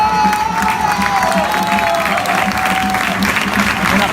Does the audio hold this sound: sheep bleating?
no